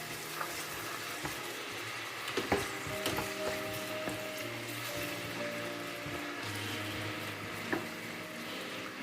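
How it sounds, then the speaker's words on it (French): Chopped onions sizzle and fry steadily in a hot pan for a gizzard stew, with a constant crackling hiss broken by a few soft clicks of stirring. "Donc je vais commencer par faire revenir mes oignons."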